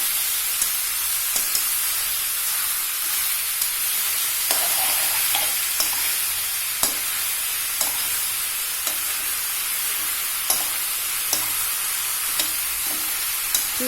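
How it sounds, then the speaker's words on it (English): Apples frying in ghee give off a steady, close sizzle and hiss, punctuated by periodic sharp stirring clicks of a utensil against the pan. "So I've added all the apples into the ghee and I'm frying it a little bit."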